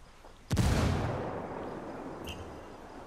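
A single loud frag grenade blast in a video game, a sharp boom followed by a long rumbling decay that slowly fades over about two and a half seconds.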